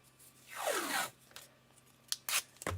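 Painter's tape pulled off the roll and handled on a tumbler cup, a close rising rip followed by several short sharp crinkles and tears, quiet and alone.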